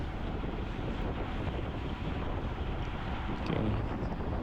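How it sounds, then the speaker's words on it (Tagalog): Strong headwind buffets the microphone during a group bike ride, a loud continuous roaring rumble of wind noise that swells slightly near the end, with no clear talk over it. "grabe ka kusog ng hangin di mga idol"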